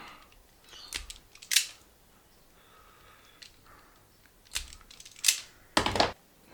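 Stripping wire for a 3D printer power supply upgrade: a few sharp close snips and clicks spaced out over several seconds, with quiet pauses between them.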